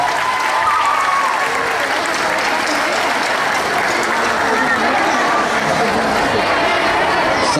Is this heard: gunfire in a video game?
no